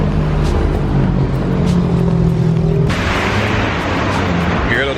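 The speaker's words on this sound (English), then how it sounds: "Here, little bus again." A small route bus passes along a street in Cancun, Mexico, a loud close engine rumble that drops in pitch partway through, with traffic noise and a voice talking over it.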